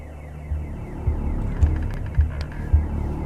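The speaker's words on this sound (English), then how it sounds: "Who set this alarm off?" An alarm in the video game The Occupation throbs with a low pulsing rhythm, several heavy repeating beats over a sustained droning hum, with no talk.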